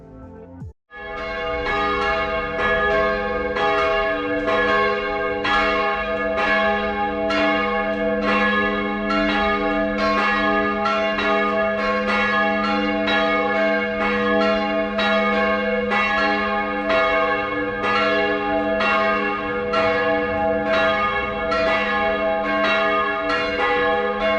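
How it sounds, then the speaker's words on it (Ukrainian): Church bells in the town of Čapljina, Bosnia and Herzegovina, ring continuously in a rapid, steady peal, loud and resonant, starting abruptly after a brief moment of street ambience. "Подивіться, як дзвони дзвонять."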